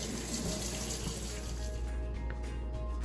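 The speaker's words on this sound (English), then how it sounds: "Now I'm going to wash my hands again just because they're all sticky from the flavoring." Kitchen tap runs steadily into a sink while hands are washed, a continuous loud splashing water stream that fills the whole moment, with the flow easing slightly near the end.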